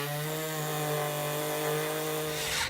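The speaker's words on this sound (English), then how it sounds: "Using an air saw, cut the hole for your speaker." Pneumatic air saw cutting a speaker hole in a 2012 Harley-Davidson Road Glide fairing, a loud steady buzzing whine with a strong tonal hum, running continuously before cutting off abruptly at the end.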